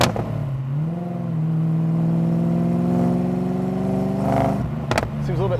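A 755-horsepower LT5 V8 in a 1979 Camaro Z28, breathing through a small oval Borla S-type exhaust, holds a loud, steady drone with a rising pitch and a sharp rev blip near the end.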